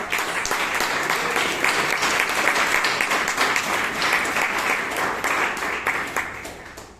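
A Toastmasters club meeting in Bangalore breaks into a long, sustained round of applause for a member, with dense even clapping from many hands that holds steady for several seconds before easing slightly at the end.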